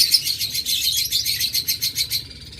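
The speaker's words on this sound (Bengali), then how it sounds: "এই ডাবল রেড ফ্যাক্টর পাইনাপেল কোনোরের ফিমেলটা" A female double red factor pineapple conure gives a rapid run of bright, repeated chirps, loud and close, steady for about two seconds before trailing off, with no other sounds.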